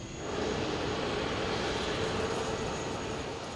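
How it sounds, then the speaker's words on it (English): An Icelandair Boeing 737 MAX jet with double wingtips taxis at a busy British airport, its engines giving a steady, loud broadband roar that holds without a break. "This is one of Icelandair's newest jets, a Boeing 737 MAX"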